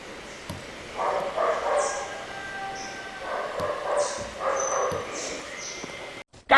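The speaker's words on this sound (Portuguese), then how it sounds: "Cachorro idiota!" Dog barking and whimpering in the background behind a teacher working through division tables, a few brief bursts repeating over several seconds, moderately distant.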